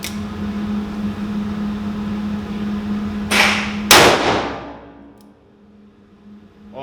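A Rossi 671 .357 Magnum revolver fires two sharp, loud shots about half a second apart over a steady background hum, then the sound falls to near silence.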